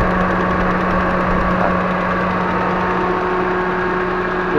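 A Proton Saga engine runs steadily with a loud, harsh mechanical rattle from a loose internal part, close and continuous with no talking.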